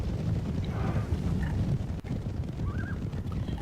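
Heavy cavalry horses galloping in Medieval II: Total War, a dense continuous rumble of many hooves with a dull thud midway, steady and loud throughout.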